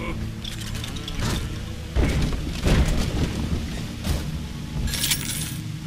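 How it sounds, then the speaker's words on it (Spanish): Several heavy booms and thuds from rockets hitting in the shooter game Bioshock 2, irregularly spaced over a rumbling game background, with a bright clinking burst near the end. "¿Quién me está tirando cohetes?"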